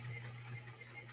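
A Pfaff 130-6 sewing machine motor, driven by an electronic foot controller, hums steadily and faintly in a brief, continuous whir.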